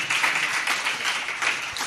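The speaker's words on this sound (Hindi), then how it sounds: "इस प्रकार आप तालियां बजा करके उन लोगों के उत्साह को और बढ़ा रहे हो" Audience applause during a religious discourse gathering at Chandragiri Tirth, Dongargarh: a short burst of steady, moderately distant clapping from a crowd, continuous without breaks.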